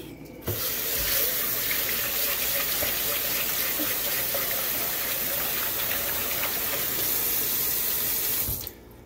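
A steady, loud gush of murky rice rinse water poured out into a sink, starting abruptly and cutting off near the end, no voices over it.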